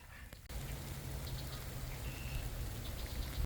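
Steady heavy rain pours down outdoors near a parked truck and maple trees, a dense continuous hiss that starts abruptly after a brief quiet moment and holds loud throughout.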